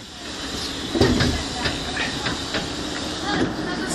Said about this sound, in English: So that's a 153 DMU locomotive.